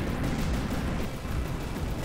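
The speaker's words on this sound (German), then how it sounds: "Und eine Kanone schießt immer noch auf uns." Cannon fire in the naval combat game From The Depths, a dense, continuous rumble of heavy booms and blasts that blur together across the whole moment, with no talking over it.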